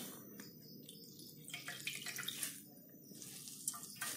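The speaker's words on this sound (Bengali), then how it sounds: "এই ব্রেডগুলো আমি হালকাভাবে একটু চুপিয়ে নেব" Slices of bread dipped lightly in water for egg-stuffed bread chops, giving a soft, continuous watery splashing and trickling with a few small drips, close and fairly quiet, with no talking.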